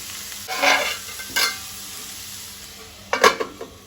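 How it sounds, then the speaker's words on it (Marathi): Cabbage bhaji cooking in oil in a pan, stirred in a few bursts: three separate rounds of scraping and sizzling, each a second or less, with quiet gaps between them. "कोबीची भाजी तेलार शिजयल्या नंतर खूब वेळ लागना शिजपाक, रोकडी शिजून जाता"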